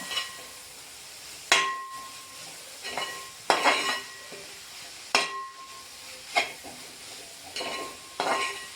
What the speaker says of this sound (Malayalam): ഇതിലേക്ക് ഞാൻ ഒരു അര ടീസ്പൂൺ മഞ്ഞൾപ്പൊടി ഇട്ടു നന്നായി ഇളക്കി കൊടുക്കുക